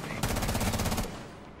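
A rapid automatic burst fires in the tactical shooter Rainbow Six Siege, about ten sharp evenly spaced shots over roughly a second, loud and close, then a fading echo.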